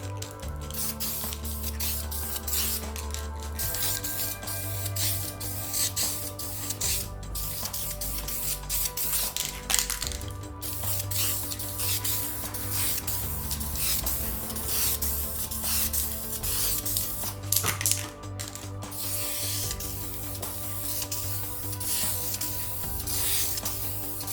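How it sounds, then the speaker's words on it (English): Spray gun laying a light mist of black guide coat over the bonnet of a Corolla KE55 project car: a steady hiss runs continuously throughout with a low compressor-like hum beneath, close and even, with no talk. "This feels so weird to spray the whole car in black after I've just gone through all this work"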